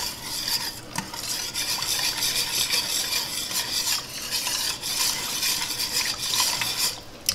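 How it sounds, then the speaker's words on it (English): A spoon stirs a chicken wing sauce of minced garlic, ginger, red pepper flakes and Thai chili flakes in a pan, giving continuous close scraping and clinking over a constant low sizzle. "Let's go ahead and give this a stir."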